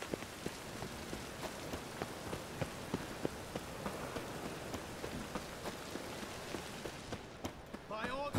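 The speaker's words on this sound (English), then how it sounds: "Rain again." Steady rainfall in The Witcher 3: Wild Hunt patters across a surface with scattered sharper drops, a constant wash of moderate loudness that briefly thins near the end.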